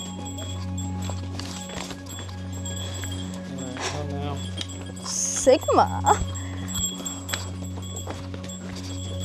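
Donkeys' hooves clip-clop on Santorini's steep stone trail, a series of close, sharp knocks bunched in the middle of the stretch over a steady low hum, with people talking nearby.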